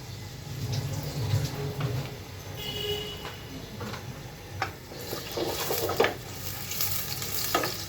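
Steady sizzle of chopped onions frying in oil in a pan, with occasional scraping and stirring clatter, continuous and close throughout with no voices.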